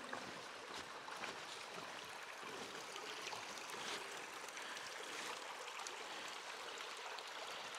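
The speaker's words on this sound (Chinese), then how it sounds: "哇，这下面的水好大呀，" A stream flows through a huge cave in Hubei, its water rushing in a steady, even wash with no other sounds.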